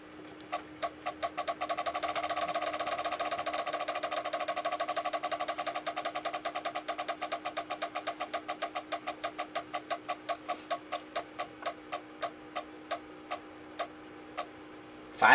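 A game show prize wheel spins with a loud, steady run of rapid clicks that gradually slow and spread out toward the end as it comes to rest, with no talking.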